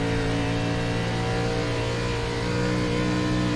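A race car engine in a racing video game drones steadily and loudly as the driver eases off the throttle, the pitch sagging slightly, with no talk over it.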